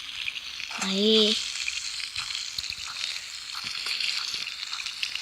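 Food frying in the Toca video game, a steady close sizzle with a short, rising-pitched game sound effect near the start; a voice speaks briefly.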